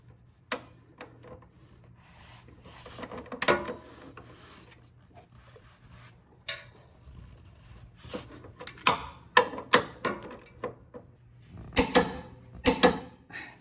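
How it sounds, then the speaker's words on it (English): A torque wrench tightens hitch receiver bolts on a 2024 Toyota Grand Highlander, giving a series of sharp, close clicks and ratcheting ticks spaced irregularly through quiet background. "That's the click we want to hear to know that the torque has been met."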